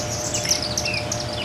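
Birds chirp in quick, high twittering calls over a steady low background hum, close and fairly clear, with no talking.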